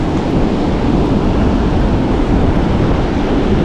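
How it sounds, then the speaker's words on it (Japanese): High surf waves crash onto a beach in a dense, continuous roar of breaking water and wind, loud and close with no voices. "しかしこれ波高くなってきた、これザッパーンって"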